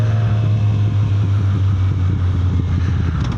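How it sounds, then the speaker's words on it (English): A motorcycle engine idles down with a low, steady purr, heard loud and close with wind rumble over it. "when it comes down like that, ooh, just a little purr."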